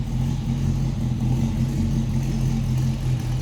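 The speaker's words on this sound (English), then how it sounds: "Dual exhaust is just really great on these. Yeah, I don't know if you can hear, but it's just a great exhaust note." A 1965 Chevy El Camino V8 rumbles steadily through its dual exhaust, a deep, throaty, continuous engine note held close and loud with slight rises in revs and no voices.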